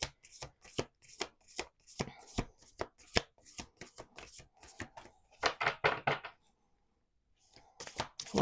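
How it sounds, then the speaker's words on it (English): Cards are shuffled with a rapid series of crisp riffling bursts, close and fairly quiet, ending in a brief pause before more flicking. "Let's do two more shuffles."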